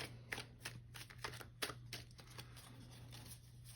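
Cards being shuffled in a quick series of crisp riffling bursts, fairly quiet and close, with a steady low hum underneath and no talking.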